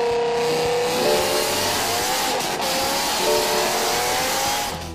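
A BMW E60 M5 V10 engine, here swapped into a Datsun 240Z, revs hard with a loud, sustained high-pitched wail and rising harmonic tones that climb and hold across the whole stretch, with no talking over it.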